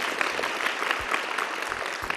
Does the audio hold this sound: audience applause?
yes